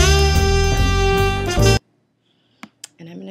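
A short jazz jingle built into GarageBand, short version, plays loud and close with bright, layered instruments for under two seconds before cutting off abruptly to near silence.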